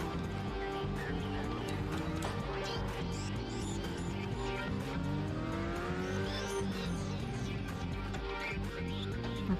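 Formula 3 race car engine in a racing video game droning steadily throughout, with pitch sweeps as it revs and shifts and possible tire squeal, under faint talk.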